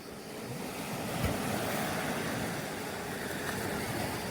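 Sea waves wash steadily onto the shore by a seaside tea garden, a continuous loud surf roar mixed with wind buffeting the microphone.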